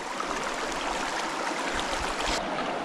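A small mountain stream near its source flows in a steady, bright rush of water, with gentle gurgles and splashes close by and no one speaking.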